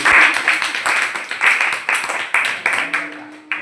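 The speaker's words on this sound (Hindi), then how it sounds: "एक बार जोरदार तालियों से" Students in a school classroom clap together at close range during a Safe Saturday heatwave-safety lesson, a loud run of rhythmic bursts that gradually thins out into separate sharp claps.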